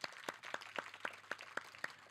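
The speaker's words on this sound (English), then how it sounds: "let's give him a huge round of applause" Sparse, distinct hand claps ring out at a distinguished speakers' lecture, about eight separate claps in a slow, even rhythm, fairly quiet and echoing in a hall, as if only a few people are clapping.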